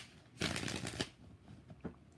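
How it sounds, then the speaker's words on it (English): Tarot cards being shuffled make a quick, soft riffling burst lasting about half a second, followed by a few lighter taps and rustles, faint and close. "4 shuffles."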